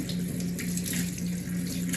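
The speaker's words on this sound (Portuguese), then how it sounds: "Abra a torneira sem encostar-se na pia e mantendo as mãos mais baixas que os cotovelos, molhe-as por completo sob a água corrente." Water runs steadily from a tap into a sink during hand washing, a constant close splashing hiss with no voices over it.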